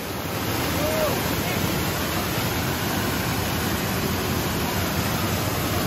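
A waterfall in the Watkins Glen State Park gorge roars as a steady, loud broadband rush of falling water, close by and continuous throughout with no let-up.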